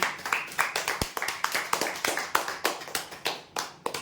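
Audience applause for the final winner of a weekly prize draw, a dense, steady patter of many hands clapping throughout, close and lively, with a sharp louder clap near the middle.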